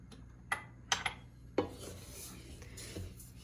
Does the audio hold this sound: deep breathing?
no